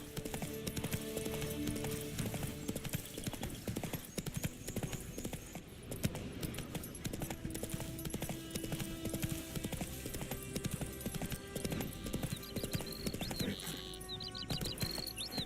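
Roach, the horse in The Witcher 3, gallops in quick, continuous hoofbeats with a brief whinny near the end, set against game music and ambience.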